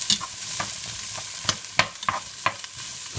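A big chopped onion fries in a pan with a steady close sizzle, broken by sharp scraping clicks of stirring at uneven intervals, with no voices.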